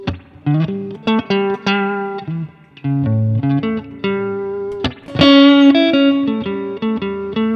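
An electric guitar plays short solo phrases over a major blues progression. Clear plucked notes and brief bends are heard alone with some distortion, and a stronger sustained phrase comes in near the end.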